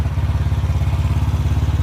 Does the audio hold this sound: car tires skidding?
no